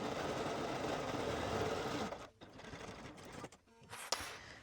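A sewing machine stitches a hoodie hem at a long 4.0 mm stitch length, running in a steady, fast whir for about two seconds before stopping and restarting in shorter, uneven bursts.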